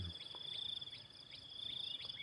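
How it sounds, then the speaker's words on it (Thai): Narrow-mouthed frogs call at dawn in the countryside, giving faint, repeated short chirping notes over a steady high-pitched drone. "เสียงร้องอึ่ง"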